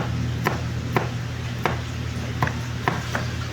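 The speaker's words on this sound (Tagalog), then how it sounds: "Finish na natin silang hiwain na maliit-liit." A knife chops finely through ginger, spring onion and garlic on a board, sharp even strikes falling about every half second, close and clear with no talking.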